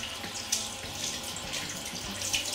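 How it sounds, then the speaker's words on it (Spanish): A tap runs water into a basin, set up for soaking a white garment with a red wine stain; the stream splashes steadily and fairly quietly with small gurgles, and there is no talking. "Voy a poner aquí agua y voy a poner la camiseta a la que luego le aplicaré el vinagre."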